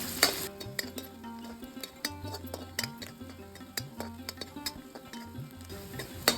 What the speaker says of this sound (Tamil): வெங்காயத்தில் கொஞ்சம் உப்பு சேர்த்து வதக்கிக்கலாம்